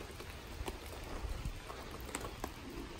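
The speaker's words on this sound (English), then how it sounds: "because it is raining" Steady rain patters on surfaces outdoors at the Geneva Lake antique and wooden boat show, where a tugboat sits covered. The soft, even hiss of drops continues quietly throughout with no voices.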